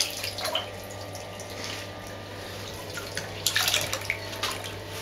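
A small child splashing in a bathtub, with soft sloshing and dripping water and occasional louder splashes, close and intimate, over a faint steady hum.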